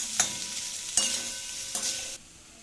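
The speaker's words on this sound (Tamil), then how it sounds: "நல்லா கிளறிடுங்க." Boiled potato pieces sauté in a pan with a soft steady sizzle and three spaced stirring scrapes before the sound drops off, with no talk.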